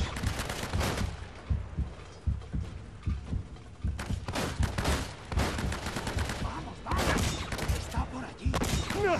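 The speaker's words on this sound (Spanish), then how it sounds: "me incomodo la cadencia de disparo" Repeated gunfire bursts from a shootout in the Uncharted video game, loud sharp shots in rapid clusters throughout, with voices heard between volleys.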